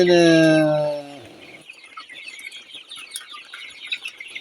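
Sonali chickens on a poultry farm: one loud, close crowing call cuts off after about a second, followed by a soft, scattered background of clucks and chirps from the flock.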